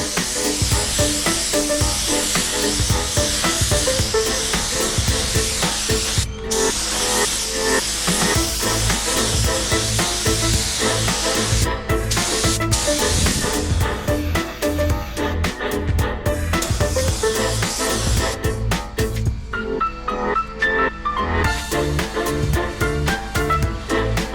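A spray gun sprays coating onto a car part in a long, steady hiss that runs almost without a break, with brief pauses and clicks as the trigger is released and pulled again.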